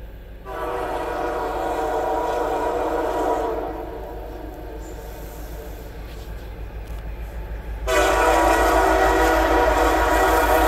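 CN freight train W321 with an EMD locomotive leading, passing at Ladysmith with loud sustained horn blasts: a long blast, a pause, then another, over the steady rumble of the train.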